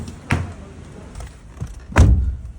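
A car door opening with a couple of soft thuds and latch clunks, the loudest near the end, close by, with no talk.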